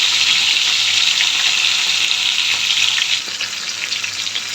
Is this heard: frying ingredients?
yes